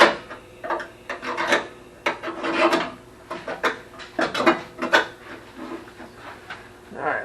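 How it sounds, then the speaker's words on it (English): A steel scribe scratches an outline into sheet metal from the back side during fender repair, giving close, rhythmic rasping strokes in uneven bursts with no talk. "I'm just going to take a scribe from the back side and scribe my opening into it"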